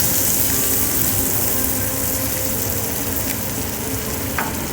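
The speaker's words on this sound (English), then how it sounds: "now we're gonna add some eggs." Eggs hit a hot pan for a three-egg omelette with turkey, bacon and tomato, giving a steady, loud sizzle that hisses on without a break.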